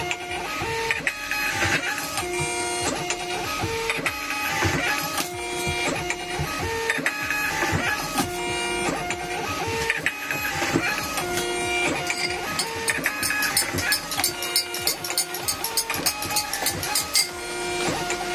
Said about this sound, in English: Let's see how long it takes to print 10 of these labels.